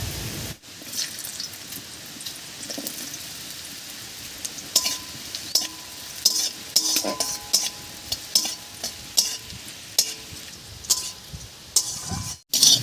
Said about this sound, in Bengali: এই তেলের মধ্যে এবারে নারকেলটা হালকা করে ভেজে নেব।